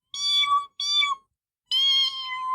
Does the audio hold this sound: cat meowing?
yes